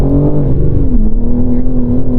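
A 2022 BMW M3 G80 Competition xDrive accelerating hard, a loud, steady engine drone heard from close inside the cabin, its pitch holding with a slight dip, no voices.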